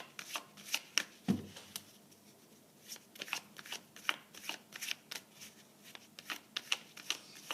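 Tarot cards are shuffled by hand for a morning reading, a run of quick, soft papery riffles and taps close by, steady and fairly faint.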